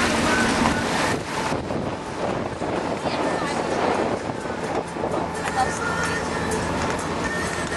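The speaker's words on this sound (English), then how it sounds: "We are under sail power." A sailboat moves under sail on open water on a breezy day, wind buffeting the microphone over a broad rush of water and waves, loud and continuous.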